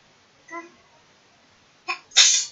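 A child sneezes with a small voiced catch first, then a quick inhale and a sharp, loud burst at close range, alone in a quiet room.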